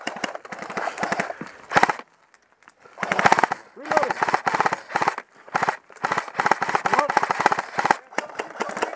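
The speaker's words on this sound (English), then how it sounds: "You see where I'm shooting?" Bursts of automatic gunfire crackle in an Iwo Jima combat video game, coming in rapid rattling volleys separated by short pauses, with voices talking over the shooting.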